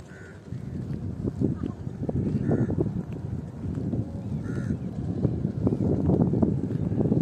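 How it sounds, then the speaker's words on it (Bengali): A trawler boat chugs along the Padma river near Rajshahi, making a steady low engine drone with wind noise and occasional honking calls on top. "নৌকাটি অনেক ঘুরে ঘুরে আসছে, দেখা যাচ্ছে পানি, তারপরেও সরাসরি আসতে পারতেছে না"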